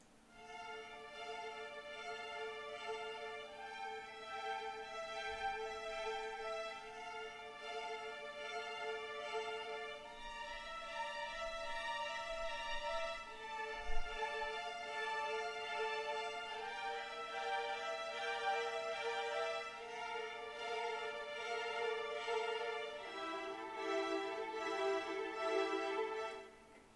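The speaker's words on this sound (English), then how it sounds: "This is the part with the solo violin going on top." A solo violin line from the 8Dio Adagio Strings sample library rises over a sustained string section, the bowed melody steady and legato across the whole passage with soft swells and no voices.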